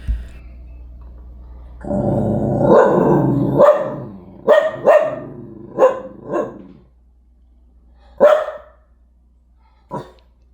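A dog on watch at a home window growls low and steadily, then breaks into a run of loud, close barks, several in quick pairs, ending with a couple of spaced single barks.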